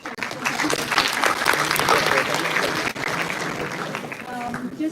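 An audience applauds a speaker at a pharmacovigilance career talk, a dense, sustained round of clapping that fills the room and begins to thin near the end.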